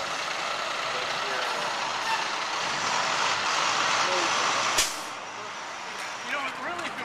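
School buses idle on a Boston street with a steady, broad engine rumble and traffic wash, and a sharp hiss of an air brake release bursts out near the end, with street noise continuing after.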